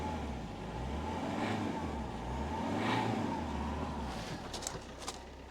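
A Fiat 1.3 Multijet diesel engine idles with a steady low rumble, its note swelling slightly now and then, followed by a few light clicks.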